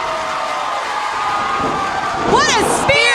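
A wrestling crowd on its feet roars in a steady wall of cheering and noise, with shrill whistles cutting through near the end.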